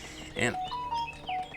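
A phone chimes with a few short, bright electronic tones in quick succession, close and clear, while a voice speaks briefly at the start.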